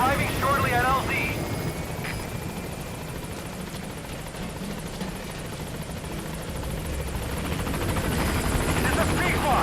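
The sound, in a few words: B-Quad helicopter arriving at landing zone, Metal Gear Solid V game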